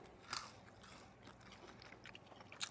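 Crispy-edged garlic bread bitten and chewed close to the mic: a sharp crunch near the start, quieter crackly chewing, then another crisp bite at the end, fairly faint overall with no talking.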